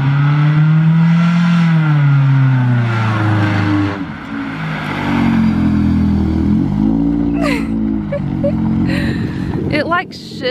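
A van engine shifts gears and then bogs down, the pitch climbing and sagging unevenly under steady road noise, with people talking over it throughout.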